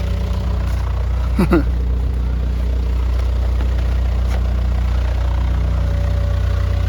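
A Volkswagen Beetle TDI diesel engine idles loudly and steadily up close, a constant heavy low rumble, with a short voice near the start.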